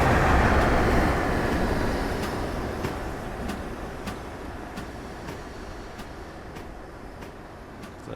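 A train rumbling past in Train Simulator Classic, a broad low roar that fades gradually over several seconds with regular faint clicks of wheels over rail joints, heard alone without talk.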